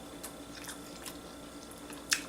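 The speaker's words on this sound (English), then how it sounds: "You can hear the crunch on the bread." Crunchy grilled bread of a grilled cheese and prosciutto sandwich, dunked before eating, gives faint, sporadic bites and chewing crunches at close range, with one sharper crunch near the end and no talking.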